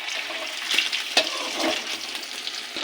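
Brinjal slices fry in a pan of hot oil, a continuous close sizzle with a few sharper pops and a light stir or two.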